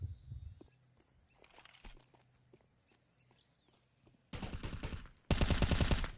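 Mag 7 shotgun fire in Counter-Strike during a pro match, arriving as two loud, abrupt blasts near the end after a quiet stretch of soft footsteps and faint clicks.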